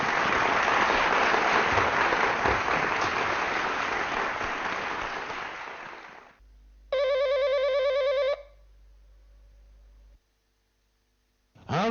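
A loud crowd roar or applause fades out, followed by a single burst of an electronic phone ring, then quiet.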